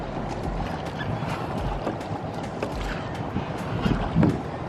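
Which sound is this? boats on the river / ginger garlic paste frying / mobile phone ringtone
boats on the river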